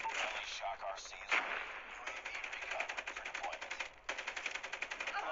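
An RPD machine gun fires in Call of Duty Mobile, a long, steady rattle of rapid shots with brief breaks, mixed with game effects and someone speaking over the gunfire.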